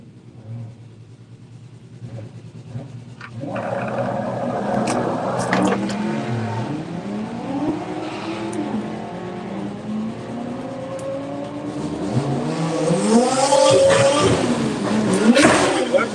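Drag racing at Santa Pod with a BMW M3 on slicks against an old V8 Ford, engines rising to a loud accelerating roar as the cars launch, with revving sweeps and a commentator talking over them.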